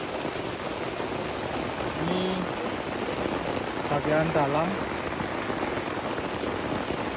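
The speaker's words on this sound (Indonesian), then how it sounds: "Kondisi saat ini hujan." Heavy rain pours steadily and loudly onto a camping tent on Mount Bidadari as water floods under it, a constant dense hiss with a brief spoken voice partway through.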